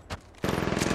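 Automatic weapon fire in Apex Legends Mobile, a brief shot then a rapid, loud burst of evenly spaced gunshots.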